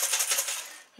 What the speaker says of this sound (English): We'll just empty them out into the colander